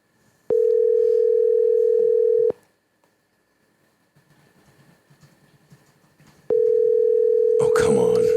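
A telephone ringing on an outgoing call, two long steady ring tones separated by a few seconds of quiet with faint background noise, the second ring cut into by a burst of noise at the end.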